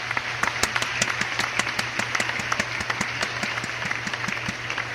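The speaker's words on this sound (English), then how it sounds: "A big round of applause, please." Sparse clapping from a small audience, distinct sharp claps in a loose, steady rhythm over a low continuous electrical hum.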